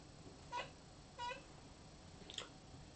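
A domestic cat meows indoors, two short faint calls about half a second apart followed by a fainter third sound, set against a low background hum.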